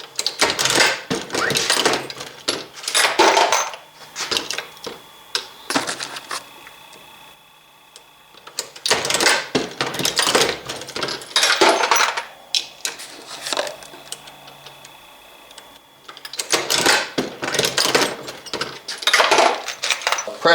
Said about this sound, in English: The press is operating very smoothly.